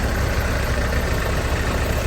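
A tractor engine rumbles at steady volume behind a group of pilgrims walking to a temple. The low drone is continuous and fairly loud and nearby, with no talking.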